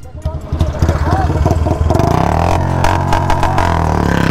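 A Royal Enfield Bullet 350 launches in a drag race against an electric scooter in Ladakh, its single-cylinder engine thumping and revving up loudly and close, a pulsing beat rising in pitch while people talk over it.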